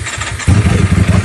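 A motorcycle engine turns over and catches, jumping abruptly from a quiet crank to a loud, rough, throbbing idle close by.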